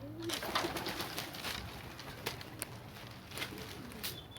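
Pigeons released for flight training coo softly under a steady outdoor wash, with a few brief flutters and light clicks.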